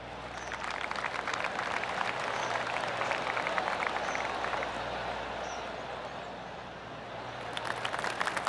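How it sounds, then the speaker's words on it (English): A gallery of spectators gives scattered golf claps on a par-5 hole at Bay Hill Club & Lodge in PGA Tour 2K25, a soft patter of distant clapping over steady ambient course noise. "I can hear the golf claps around the course"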